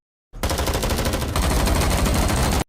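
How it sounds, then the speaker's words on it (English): Heavy gunfire rattles underwater in a film scene of mercenaries raiding a shipwreck, a loud, continuous stream of rapid shots lasting about two seconds. "Heavy gunfire echoes underwater"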